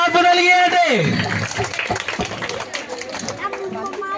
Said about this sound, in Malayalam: നമ്മുടെ അധ്യാപകർക്ക് നല്ലൊരു ക്ലാപ്പ് നൽകിയാട്ടെ.